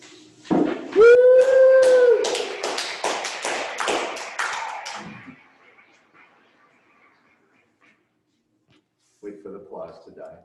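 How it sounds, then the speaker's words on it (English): Audience applause with a few whoops after a classroom synthesis presentation, a burst of close, dense clapping that thins and fades to silence within a few seconds, followed later by faint talk. "Wait for the applause to die."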